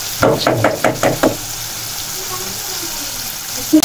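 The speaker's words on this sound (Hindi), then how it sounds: "अभी से पानी डाल दिया तुमने?" Water is poured into a cooking pot of meat being stewed with simple spices such as turmeric, heard as a short series of splashing, knocking pulses up close, then a quiet stretch ending in a single clunk.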